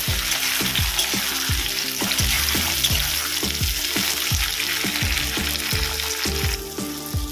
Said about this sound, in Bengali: তারপরে একটু ভেজে নেবো